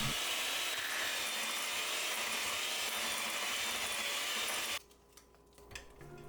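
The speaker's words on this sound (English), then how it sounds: "Egg yolks को मैं 1 bye 1 डाल के मीडियम स्पीड पे बीट कर रही हूँ।" Electric hand mixer beating egg yolks at medium speed in a home kitchen, a steady close whirring drone for nearly five seconds that then stops, followed by quiet clatter.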